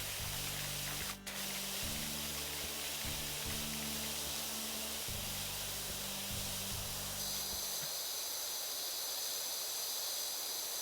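A pressure washer sprays steadily in the video game PowerWash Simulator, a loud, continuous hiss of water that runs unbroken with a low rumbling tone underneath and shifts in character partway through.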